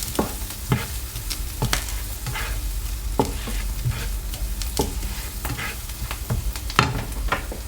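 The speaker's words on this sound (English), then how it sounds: "You can hear them sizzling." Steady crackling sizzle of roast dinner vegetables frying in a pan, with sharp scraping and clinking from stirring utensils on top, close and fairly loud.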